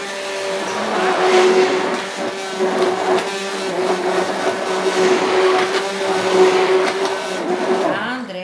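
A hand mixer whirs steadily through thick liquid fabric softener mixture at close range, its motor hum rising and falling slightly, with no voices.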